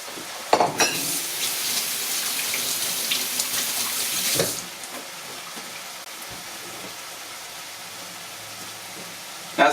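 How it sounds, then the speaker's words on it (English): Garlic and onions hit a hot pan with a loud, broad sizzling hiss for about four seconds before it fades to a quiet background simmer with a few light knocks. "We'll get our garlic in with the onions there."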